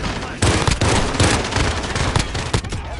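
Rapid bursts of automatic gunfire crackle loudly in a Call of Duty Modern Warfare firefight, with sharp repeated shots clustered closely together and a few heavier reports standing out.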